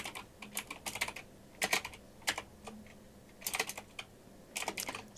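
Bursts of computer keyboard typing, quick clusters of key clacks separated by short pauses, close and clear with no talking.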